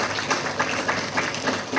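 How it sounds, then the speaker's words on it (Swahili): An audience at a Clouds Media event breaks into applause for Mama Kusaga, a dense, moderately loud patter of many hands clapping with slight rhythmic swells. "Makofi kwa mama Kusaga tafadhali."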